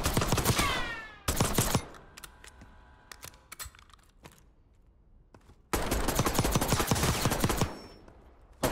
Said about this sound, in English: Rapid fire right there.